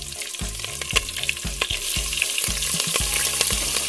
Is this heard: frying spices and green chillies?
yes